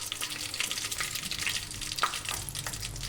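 Mustard seeds and cumin dropped into hot oil for drumstick sambar tempering, a quiet crackling sizzle with scattered pops and spits over a low steady hiss, no talking.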